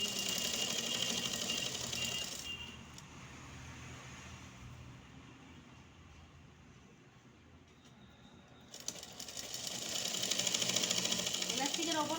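Sewing machine stitching along the edge of elastic on a raincoat pant, a loud rapid motor buzz at the start, a quieter stretch in the middle, then the stitching resumes strongly near the end, with a voice speaking throughout.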